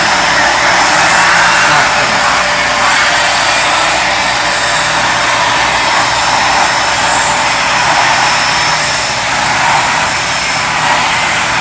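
Samsung or Dyson vacuum cleaner running continuously with a loud, steady, close-up whine and hiss, cleaning debris on a floor.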